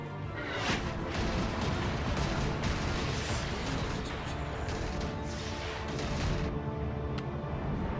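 An anti-ground turret fires in the strategy game Dragon Commander amid steady battle noise, with sharp crashing impacts and booms scattered across several seconds over a constant roaring, moderately loud backdrop.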